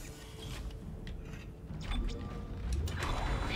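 Door mechanism grinding open in Dead Space, with ratcheting clicks, creaks and mechanical clunks building over a low rumble, no talking.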